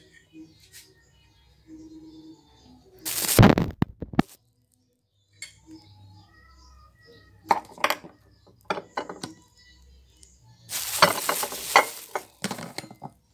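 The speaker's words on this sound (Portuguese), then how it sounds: "E agora eu vou fritar aqui um filé de frango." Chicken fillet frying in a pan at home, with bursts of loud sizzling as the meat goes in and is moved, plus utensil clinks and scraping between quieter stretches, close-up.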